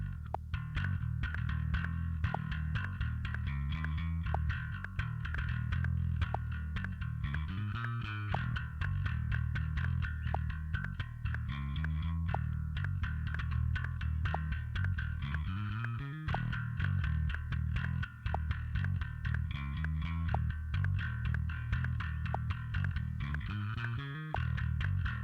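Bass guitar processed with EQ and a compressor in Reaper sits under a dense, sustained mix, with an even, steady level throughout and low notes that slide and move beneath a constant full-band wash.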